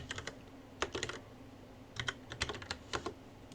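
Computer keyboard keys pressed in quick clusters, with short rattling runs of crisp clicks separated by brief pauses, close and clear against a quiet background.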